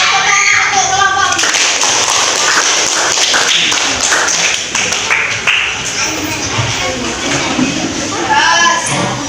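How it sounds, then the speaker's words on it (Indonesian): Applause from a primary school class for a group of presenting pupils, busy overlapping claps and taps at close range, with children's voices chattering underneath throughout. "tepuk tangan untuk kelompok"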